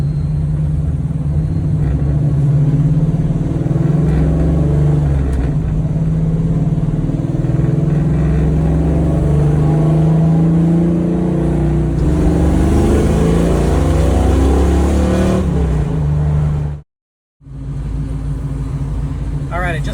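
Engine of a 1970 Dodge Challenger with a swapped 5.7 Hemi, before an H-pipe is fitted, rumbling loudly and continuously through its exhaust with rising revs. The sound cuts out briefly near the end.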